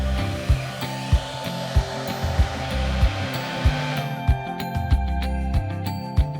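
A hair dryer blows steadily on medium-length hair styled with a round brush, loud and close, with regular rhythmic knocks of the brush and a pitch shift near the end as the setting changes.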